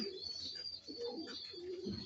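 Soft, low pigeon coos repeat in short phrases, fairly faint, over a steady high-pitched background hum.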